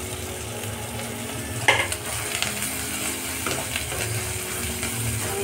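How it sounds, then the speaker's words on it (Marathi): Onion, tomato, salt and turmeric fry in a pan with a steady close sizzle, broken by a few sharp clinks and scrapes of a stirring spoon; no one talks. "फ्राय करून घ्यायचं"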